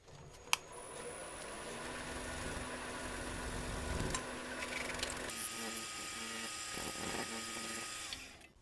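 A brand new carving-tool sharpening wheel is charged with polishing paste on a powered sharpening system. It gives a steady motor whine with a scraping, rubbing texture, and the pitch shifts partway through.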